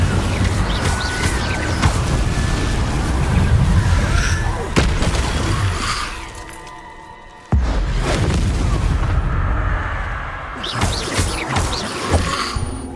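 Repeated fiery Incendio spell blasts cast in Hogwarts Legacy, loud booming bursts with crackling flame noise, continuous with a brief dip before erupting again, set amid busy game sound.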